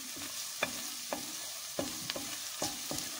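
Tomato paste roasting in a pot for lentil soup, stirred with a steady sizzle and several sharp scraping strokes of a spoon against the pot, about five in a row, close and moderately loud.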